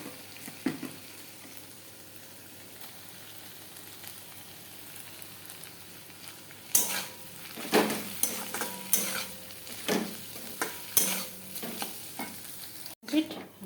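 Food sizzles in a pan in a home kitchen. A quiet, faint sizzle gives way to loud bursts of stirring, scraping and clinking spoon-on-pan strokes that continue irregularly to the end.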